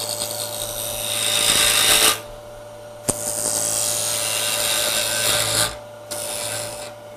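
A wood lathe spins a 2x4 while a gouge cuts it, giving a steady, raspy scraping that stops briefly twice, with a faint continuous hum beneath.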